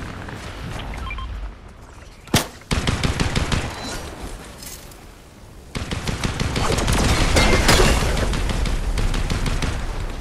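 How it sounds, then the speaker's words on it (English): Rapid automatic gunfire in the video game Fortnite: a short burst at first, then repeated fast volleys of shots that grow into dense, loud continuous firing with some footsteps mixed in. "There's someone shooting."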